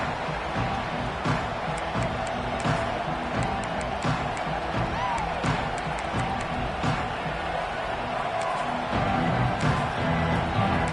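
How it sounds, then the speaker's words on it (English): A stadium crowd at a Texas A&M college football kickoff roars steadily and loudly, a dense, unbroken wall of cheering with a few sharper bursts standing out from the din. "This crowd bringing an ear-splitting welcome to their visitors"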